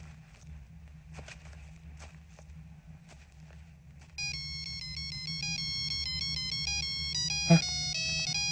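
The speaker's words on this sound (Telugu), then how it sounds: "ring tone sir" A mobile phone ringtone starts partway through a comedy film scene, a loud, steady electronic melody of bright repeating tones following a stretch of quiet footsteps and faint room sound.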